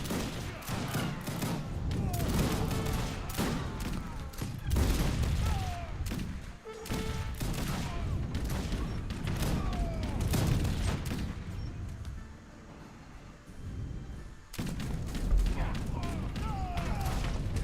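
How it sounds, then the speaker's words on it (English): Espingolares organ gun cannons firing in Age of Empires 3 battle, a dense crackling fusillade of rapid overlapping gunshots and thuds, continuous and busy with a brief lull, while people talk over it. "These are basically like a sort of organ gun looking cannon"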